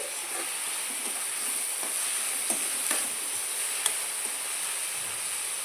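Onions frying in oil in a pan for a cashew and drumstick curry: a continuous bright hiss of sizzling oil with a few faint scrapes and clicks of stirring, steady and close, no talking.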